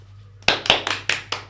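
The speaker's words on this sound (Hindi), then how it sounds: "यही तालियां अगर ये कहीं रेड लाइट पे बजाते तो इन्हें पैसे मिल जाते।" Several sharp hand claps in a quick, uneven burst sit close and fairly loud after a short quiet lead-in, like a small group clapping at the start of a Delhi talk show episode. There is no talking.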